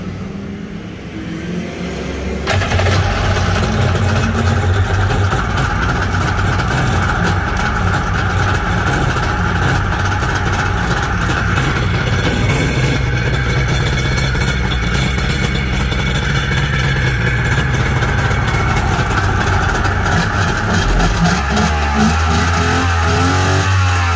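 A 1996 Kawasaki 900 ZXi two-stroke triple jetski engine runs on a trailer, loud and close, settling into a steady, rough idle after a brief quieter start, with no talk over it.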